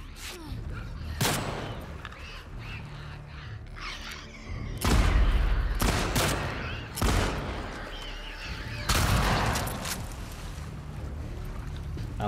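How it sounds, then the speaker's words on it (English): A pump shotgun fires in The Last of Us Part II, with several loud, booming blasts spaced a couple of seconds apart over a background of game music. "I like this pump shotgun already."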